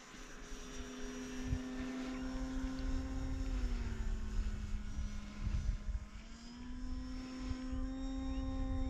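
E-Flite Timber RC airplane flying over snow, its electric motor giving a steady, close buzzing whine that dips and rises in pitch as it passes and turns.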